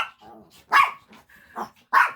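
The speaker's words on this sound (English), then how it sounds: "is such a noisy little shining example of a chihuahua" A small chihuahua lets out several sharp, high yappy barks with brief growly bits between them, close by and fairly loud, in short irregular bursts.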